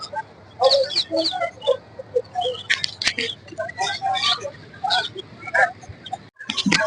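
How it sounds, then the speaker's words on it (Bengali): Large chickens at a place housing many kinds of animals and birds, with clucks and bird calls heard alongside a person talking throughout. "বিশাল বড় বড় মুরগি দেখেন।"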